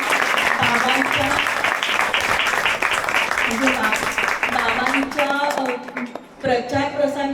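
An audience applauds volunteers at a Guru Purnima event for a website launch, with loud, dense clapping that thins near the end while voices carry on over it.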